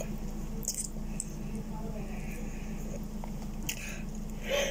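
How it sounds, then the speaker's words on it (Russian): Close-up wet biting and chewing while eating canned sprats at breakfast, soft and intermittent over a steady low background hum. "С утра едим селедку."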